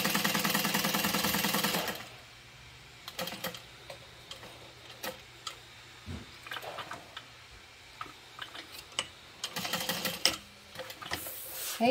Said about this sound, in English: Okay, so we'll draw a stitch down those 2 lines.